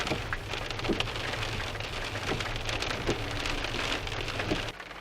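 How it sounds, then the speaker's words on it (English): Steady rain pattering on a surface, dense and continuous, with a few distinct drops standing out now and then. "it's raining"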